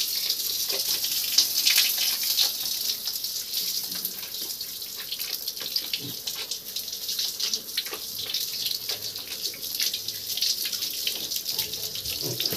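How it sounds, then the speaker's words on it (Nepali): Tap water runs steadily into a basin as a pig is washed, a continuous hissing splash that stays even and fairly loud throughout, with no talk. "पानी खुलाइदिएको छु"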